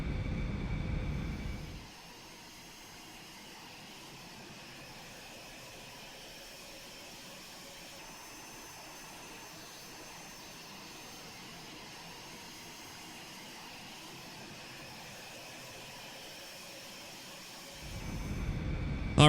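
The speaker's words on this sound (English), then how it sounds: "Let's just taxi down to the runway." An Aerobask Eclipse 550 light jet taxiing in the X-Plane 11 flight simulator, with a steady, low, even engine drone held at constant volume, and louder bursts at the very start and end.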